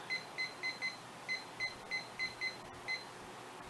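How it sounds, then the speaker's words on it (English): A small electronic kitchen timer beeps repeatedly in quick pairs and triples, high-pitched and steady, over a low background hum. "Set my timer"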